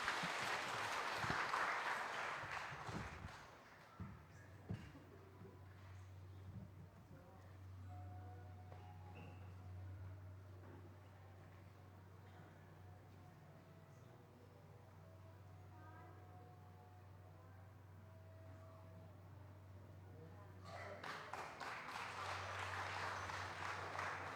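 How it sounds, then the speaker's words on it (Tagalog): A crowd clapping in a church during a Simbang Gabi Mass at the start, fading to a quiet hum of a room, then the applause swells again near the end. "Malakas na palakpak po sa ating Panginoon."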